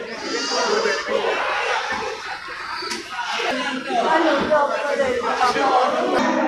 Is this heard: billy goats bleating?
yes